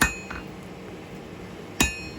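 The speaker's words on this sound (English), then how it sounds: "Using the flat side of the hammer, just tickling it a little bit, not hitting it hard." Hammer tapping high carbon steel during free forging, the flat face used lightly: a bright metallic tap at the start, a softer one shortly after, then a sharp ringing strike near the end over low forge background noise.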